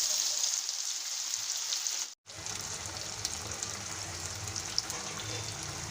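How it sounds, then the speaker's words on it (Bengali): Sweet pumpkin pieces frying in hot oil give a steady, even sizzle, a soft crackling hiss that carries on with no voices over it, broken only by a short gap partway through. "এখন এই মিষ্টি কুমড়ো আমি তেলের মধ্যে ভালোভাবে ভেজে নিতে।"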